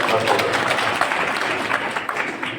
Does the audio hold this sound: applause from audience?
yes